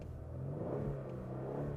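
A 2024 Genesis G70 V6 engine hums with a low, steady drone inside the cabin while driving under load, heard faintly with a smooth, even tone.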